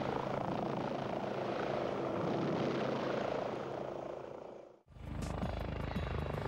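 An Army Air Corps Scout military helicopter flies over the Belize jungle, its rotor and engine droning steadily and loudly; after an abrupt cut, a voice begins speaking over the noise.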